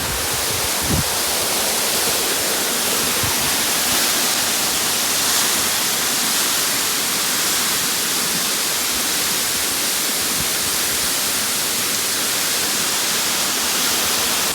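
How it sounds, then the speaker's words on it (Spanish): Water plunging from a tall waterfall, a loud, steady, broadband roar that stays close and unbroken throughout with no voices. "el agua, como cae desde tan alto, pega súper fuerte en la piel"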